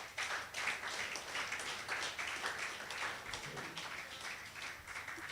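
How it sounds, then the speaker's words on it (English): Faint, steady audience applause for an association president and his team at an ex-student leaders' gathering in Abuja, continuous clapping throughout. "can we give our president and his team a resounding round of applause?"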